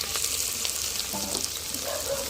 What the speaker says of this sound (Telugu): పచ్చిమిర్చి అయినా ఉల్లిగడ్డ అయితే బాగా వేగినాయి కదండి